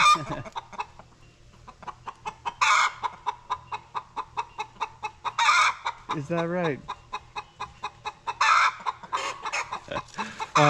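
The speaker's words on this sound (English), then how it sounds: "But we have 3 roosters at the moment." Roosters crow close by on a homestead, one long crow rising and falling, amid steady rhythmic clucking from several chickens; a person briefly speaks.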